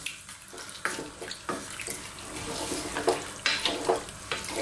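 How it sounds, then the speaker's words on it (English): Cold water runs from a tap into a pot of vegetable soup, a steady broadband splashing stream lasting several seconds with small surges, close by and with no talk. "I am going to add water, quite a lot of cold water."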